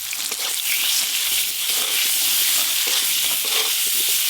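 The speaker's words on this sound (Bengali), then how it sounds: "মাছ ভাজার তেলে টকটা করে নেব।" Raw mango pieces sizzling and frying in leftover fish-frying oil with five-spice tempering, salt and turmeric, a steady close hiss with light stirring clatter throughout.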